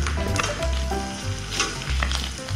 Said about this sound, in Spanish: darle su toque final, que es freírlo con su misma manteca